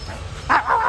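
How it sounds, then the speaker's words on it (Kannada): Dogs at a house give a quick pair of close, loud yelping barks over a low rumble of background noise. "4 ನಾಯಿ ಅದಾರ ಹೋದ್ರೆ ಅಯ್ಯಪ್ಪ ಭಾಳ ಡೇಂಜರ್ ಅದ ನಾಯಿಗಳು"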